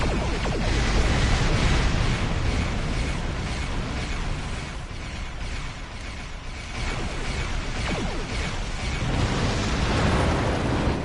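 A high-yield torpedo strikes a satellite in a Star Trek space combat game, producing a loud, dense, rumbling explosion with crackling mechanical texture that swells, dips slightly, and swells again with no speech.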